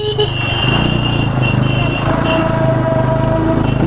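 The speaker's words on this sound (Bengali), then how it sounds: "প্রচুর গাড়ির মেলা লেগে আছে" Busy road traffic with many vehicles during an Independence Day ride, a loud continuous rumble of engines close by with a faint horn-like tone, and voices partly under the noise.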